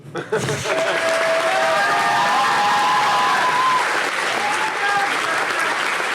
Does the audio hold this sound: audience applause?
yes